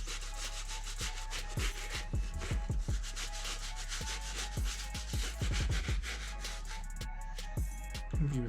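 A cleaning brush scrubs scuff marks off a sneaker in close, continuous back-and-forth rasping strokes, with a steady low hum underneath.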